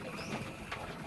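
A pigeon in a loft coos softly at a distance, a brief low murmur set against faint background noise.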